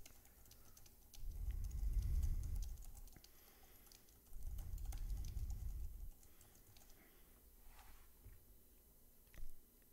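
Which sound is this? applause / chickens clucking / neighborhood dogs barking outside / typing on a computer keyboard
typing on a computer keyboard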